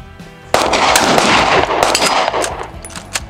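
A rapid burst of gunshots rings out at close range, loud sharp reports running together for several seconds after a brief quiet start.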